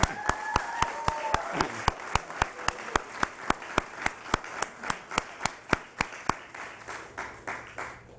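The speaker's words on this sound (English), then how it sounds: "deserves a big round of applause" Slow, evenly spaced claps from a small group at a Nasdaq ceremony marking Forward Air's 25-year milestone, each sharp clap distinct, with a voice speaking briefly near the start before the clapping continues alone and thins out.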